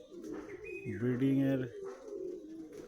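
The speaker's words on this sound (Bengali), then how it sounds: "ভেতরে মেল ফিমেল, গিরিবাজ, ম্যাড্রাস, আন্ধ্রা, শাহজাহানপুরি সব ধরনের পায়রাই একসাথে রাখা রয়েছে" Male and female pigeons of Giribaz, Madrasi, Andhra and Shahjahanpuri breeds, kept together in a loft, give soft throaty cooing near the middle, while someone speaks over most of it.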